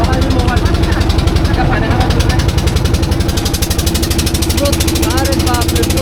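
A motorboat engine on the river at Jaflong Zero Point, Sylhet, chugs loudly and close with a fast, steady pulsing throb that fills the whole stretch.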